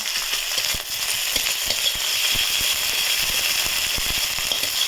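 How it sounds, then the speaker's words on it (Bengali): Chopped onion and ginger garlic paste frying in oil, a loud and steady sizzle up close with scattered crackles and stirring clicks, and no voices. "এটা থেকে তেল ছাড়া পর্যন্ত ভেজে নিতে হবে"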